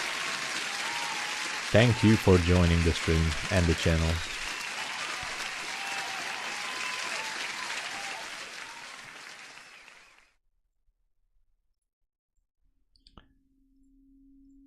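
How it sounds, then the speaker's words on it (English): Applause sound effect played on a live day-trading stream, a crowd clapping behind someone speaking, running several seconds then cutting off into silence, followed by a faint click and a short tone. "let me give you a proper applause"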